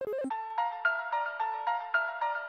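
From the Undertale sound test, a faint, thin chiming electronic melody plays. Repeated bell-like notes pulse in a steady rhythm after a few quick jumbled tones at the start.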